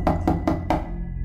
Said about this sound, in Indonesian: samar terdengar suara pintu yang diketuk